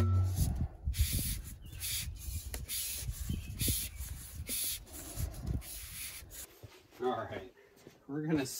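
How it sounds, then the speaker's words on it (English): A freshly cut rocket part is sanded by hand in repeated short strokes, a close, rhythmic scratchy rubbing that continues throughout while a person talks over it. "But I bet if I sand that for just a little bit, it's gonna be perfect."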